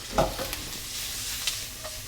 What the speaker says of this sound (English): Now I just add in the ham, salami, garlic, onions and olives.